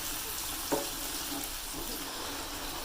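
Mixed vegetables sizzle steadily in a hot pan for sabzi while being stirred, a continuous bright frying hiss with a faint spoon scrape, close and even, with no talking.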